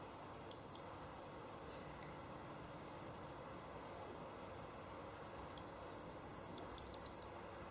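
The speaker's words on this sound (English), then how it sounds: "That final beep just indicates that my 2 minutes are now up" A galvanic spa facial device sounds its timer: a short high electronic beep near the start, then a longer cluster of beeps near the end, all faint and close against quiet room hiss, with no voices.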